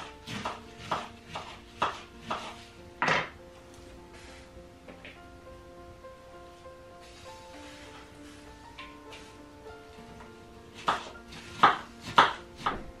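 Cabbage and meat pie filling being prepared in a dacha kitchen: bursts of sharp knife chopping on a board at the start and again near the end, with quieter tonal kitchen sounds in between.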